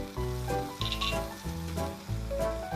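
Chicken fries with dried red chili, chopped ginger, garlic and soy sauce for kung pao, a loud, close sizzle that keeps going, with clinks and scrapes of a utensil stirring the pan.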